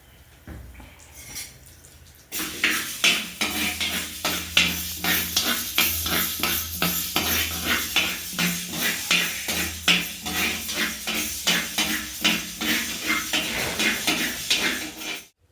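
Spices sizzle and crackle as they roast in ghee in a pan, a steady frying hiss with scattered clinks and scraping stirs, close and continuous after a quiet start.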